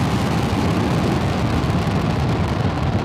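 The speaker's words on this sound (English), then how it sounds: "And liftoff of Falcon 9" Falcon 9 rocket at liftoff gives a loud, continuous roaring rumble, dense and crackling across the full range, holding steady throughout with no voices.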